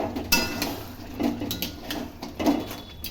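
A metal lid lifted off a cooking pot of potato curry on a home stove: a few light clanks and scrapes of metal on metal, close by, with short pauses between them.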